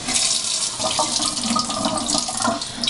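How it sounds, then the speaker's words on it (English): Cold water gushes steadily from a tap into a sink, a loud continuous rushing splash with no voices. "turn the water on."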